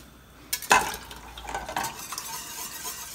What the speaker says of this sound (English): Get it all stirred in.